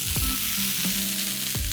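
A hot tava griddle sizzles with a steady, bright hiss, close and constant, broken by a few soft low knocks.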